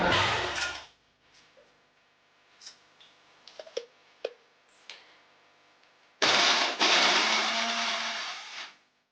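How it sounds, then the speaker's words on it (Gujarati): A mixer grinder whirs loudly for a moment grinding ghee-fried muthiya for churma ladoo, then a few clicks and taps, before a second long grinding burst that winds down. "જે આપણે મુઠિયા તળ્યા હતા ઘીમાં એને આવી રીતે થોડો ચૂરો કરી અને મિક્સરમાં આપણે પીસી લઈશું"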